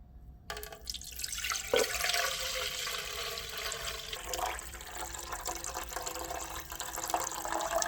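Ginger juice is poured off settled starch into another container, giving a quiet, steady trickling stream of liquid that continues throughout at low volume.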